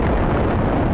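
A meteor strike spell slamming into an undead army in an anime, heard as a loud, continuous roaring blast of rumbling, wind-like noise that fills the whole second without letting up.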